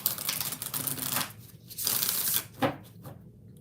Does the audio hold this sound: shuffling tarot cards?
yes